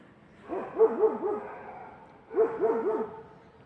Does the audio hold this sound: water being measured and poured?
no